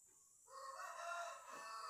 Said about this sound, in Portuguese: Galo cantando aqui de novo.